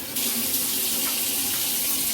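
Tap water runs steadily into a sink as a bunch of celery is rinsed beneath it, a close, continuous splashing rush with no talking.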